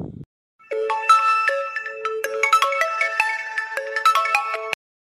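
A loud, close mobile phone ringtone plays a bright, chiming electronic melody of quick repeated notes for about four seconds before cutting off abruptly, with no talk over it.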